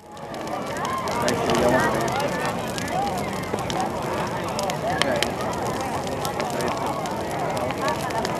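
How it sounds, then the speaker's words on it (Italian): A Panevin bonfire, the traditional Epiphany fire of the Veneto, crackles and pops steadily and fairly loudly amid outdoor crowd noise and scattered voices. "cerchiamo di farvi sentire per un istante lo scoppiettio del Panevin"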